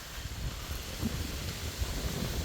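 Soft, steady wind buffeting outdoors on the Prairie View Trail at Buffalo River State Park, a low rumbling gusty roar close to the microphone with no voices.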